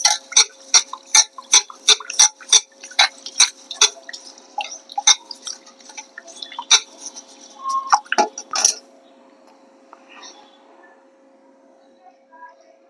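Water splashes and drips in quick, uneven bursts as rice is washed and drained for cooking, followed by a few faint clinks and then near silence.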